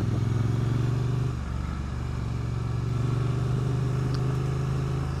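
Triumph Street Twin 900 motorcycle engine while riding on a road, a steady low twin-cylinder drone with a smooth throttle, close and continuous with wind noise and no talk.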